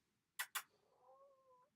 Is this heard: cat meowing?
yes